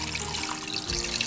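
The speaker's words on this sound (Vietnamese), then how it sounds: "Đây, mình sẽ đổ cái nước vo gạo này vào trong" Rice-rinsing water is poured onto snails in a continuous close splash and trickle, loud and steady through the brief moment, with no voices.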